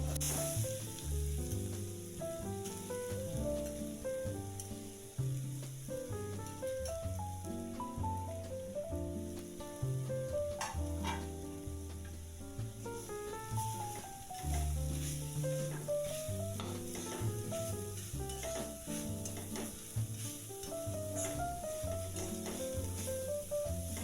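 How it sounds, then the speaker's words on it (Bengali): Grated carrots fry with crushed cardamom, cashews and raisins for carrot halwa, a soft steady sizzle and occasional stirring sounds running beneath louder melodic background music throughout. "কাজু কিশমিশ গাজর একটু ভেজে নেব।"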